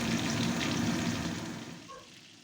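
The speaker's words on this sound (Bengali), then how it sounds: "পটলগুলো ভাজা হচ্ছে, এদিকে একটু উল্টে পাল্টে এদিক ওদিক করে দিলে তাহলে সব দিকটাই ভালো করে ভাজা হয়ে যাবে।" Pointed gourd (potol) pieces frying in a pan while being turned: a close, steady sizzle that gradually fades away toward the end.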